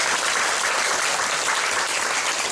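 Sustained applause fills a church congregation at a healing revival service, a dense, steady wash of many hands clapping with no talk, holding an even loudness throughout.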